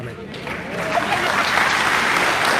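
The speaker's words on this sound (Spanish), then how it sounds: "Aplauso fuerte que se oiga para estos hermanos." Church congregation breaking into loud applause, building within the first second to a sustained dense clapping with a voice briefly audible near the start.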